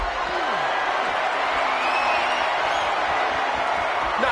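Steady, dense crowd roar and cheering from a WWE 2K25 wrestling video game arena fills the whole stretch at an even, loud level.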